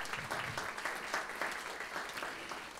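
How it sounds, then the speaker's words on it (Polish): Faint applause from a crowd at an accordion festival in Kotlin, a steady wash of clapping lasting a few seconds with no voices over it. "Dzisiaj Kuba Sienkiewicz, duże brawa"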